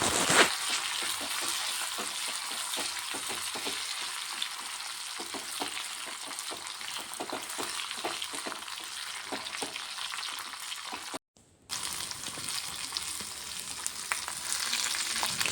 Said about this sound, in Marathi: भिजवलेले दाणे खोबऱ्याचे काप घालून व्यवस्थित स्पॅच्युलाने हलवायचे आहे